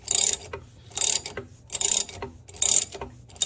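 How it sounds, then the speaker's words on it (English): Ratchet cranking a puller tool set in the harmonic balancer of a 1981 C3 Corvette, in bursts of rapid clicking with short pauses, close and fairly loud, no talk. "now I've got my puller tool set up in the harmonic balancer, and I'm using a ratchet to pull it off"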